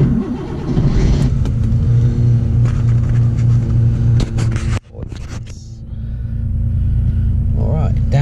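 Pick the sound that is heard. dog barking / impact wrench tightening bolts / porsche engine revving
porsche engine revving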